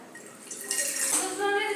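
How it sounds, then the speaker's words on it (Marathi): Water pours steadily into a kadhai (wok) set up for steaming dhokla, a close, continuous splashing rush that starts partway in and swells toward the end. "मी ह्या कढईमध्ये आता पाणी घालणार आहे"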